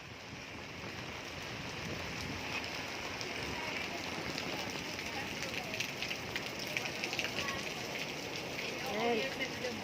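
Steady heavy rain hisses throughout, a dense constant wash of sound with faint scattered patters and occasional louder splashes.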